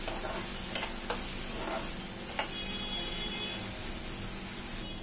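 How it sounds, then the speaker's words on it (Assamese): Spices fry in a pan with a continuous crackling sizzle, while a few quick scraping knocks of a spoon stirring against the metal stand out. "মছলা যিমানে ভাজিম গ্ৰেভি বেছি টেষ্টি হয় আৰু গোটেইখিনি মছলা ভালদৰে ভাজি ললো"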